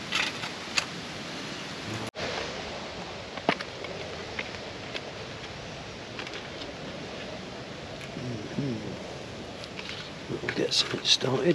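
Light rain starting to fall over an autumn bivvy camp with a tarp; a soft, faint, even patter with occasional small knocks and rustles, and some talking.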